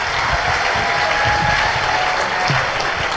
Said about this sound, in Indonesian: Tepuk tangan dulu untuk Ko Theo semuanya teman-teman.